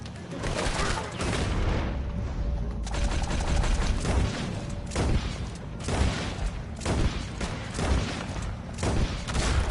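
Dense shootout gunfire in Red Dead Redemption 2 against a regiment, a continuous loud barrage of overlapping shots and booms close by, with no pause across the whole stretch.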